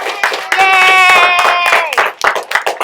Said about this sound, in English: can we give the parents a round of applause for coming?